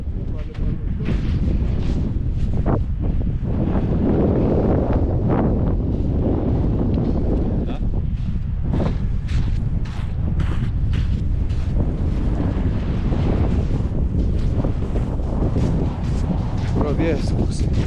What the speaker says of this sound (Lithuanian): Kyla vėjas.